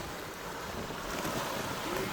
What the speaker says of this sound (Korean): 파도가 이게 서해안인데도 파도가 엄청 치네 이게.